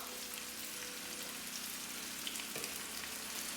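Dried mango pieces and garlic sautéing in oil in a pan for enna manga achar, a steady close hiss and crackle of frying that holds evenly throughout, with a faint scrape near the middle.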